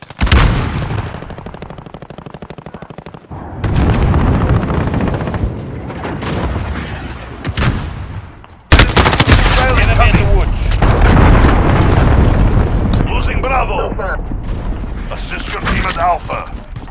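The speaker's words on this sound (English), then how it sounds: "Stun bomb out!" Call of Duty Modern Warfare match with a stun grenade going off amid gunfire, loud close bursts of shots and blasts, a sharp heavy explosion midway followed by dense firing, with radio-style voice callouts over the battle.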